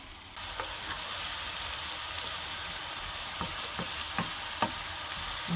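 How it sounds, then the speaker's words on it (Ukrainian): Onions sizzle steadily in a hot deep frying pan, with a few soft scraping stirs and taps cutting through the constant frying hiss. "біля цієї цибулі і обмішую її, обжарюю до прозорого стану"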